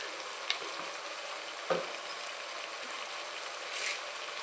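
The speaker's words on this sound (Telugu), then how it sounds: "కరివేపాకు వేసి బాగా ఫ్రై చేయాలి" Curry leaves and spices fry in hot oil for a milmaker biryani, a quiet steady sizzle with a few soft clicks and stirring scrapes, close by and with no voices.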